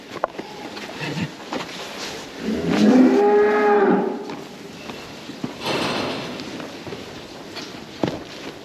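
A cow on a farm with newborn calves lets out a loud, drawn-out moo close by, framed by quieter shuffling and barn noise.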